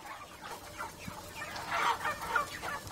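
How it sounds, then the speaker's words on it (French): Chickens cluck on a poultry farm that also keeps turkeys, ducks and geese, with overlapping soft clucks and calls from a flock nearby. "il élève des poulets, des dindes, des canards et des oies"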